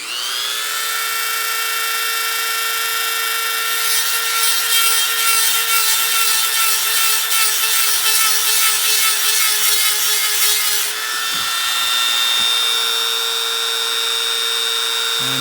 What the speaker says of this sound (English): take my Dremel here and just kind of go around this edge real quick